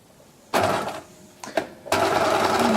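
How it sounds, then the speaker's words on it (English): A sewing machine stitches along the edge of a beach bag in two loud bursts of whirring separated by a short pause with brief clicks, running close and steady without speech. "now you're going to machine along this edge here"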